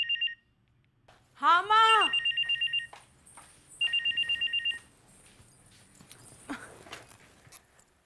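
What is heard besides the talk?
telephone ringing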